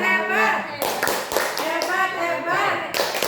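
A small group of people claps briefly in a room at a teachers' school event, the scattered clapping mixed with voices talking and calling out.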